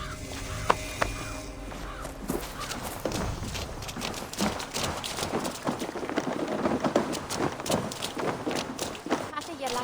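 A horse gallops in Assassin's Creed Valhalla, its steady drumming hoofbeats running continuously for the whole stretch beneath ambient game sound and occasional voices.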